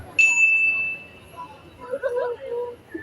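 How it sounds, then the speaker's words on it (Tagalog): A single bright electronic doorbell tone rings out clearly, followed by people chattering in the background. "Nag-doorbell ang lalaki."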